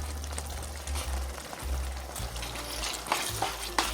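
Dry elbow macaroni poured into a simmering cheeseburger casserole in a pan, a soft rushing patter over low bubbling and sizzle, with a few light clinks and stirring scrapes near the end.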